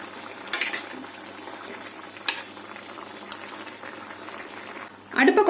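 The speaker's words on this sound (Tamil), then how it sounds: "குழம்பு கொதிக்கும் போது பொரிச்சு வச்சிருக்கிற மீனை இதோட ஆட் பண்ணிக்கோங்க" A pot of fish curry bubbles steadily on the stove, a soft continuous simmer with a couple of brief clinks and a louder sizzle-splash as fried fish is added near the end.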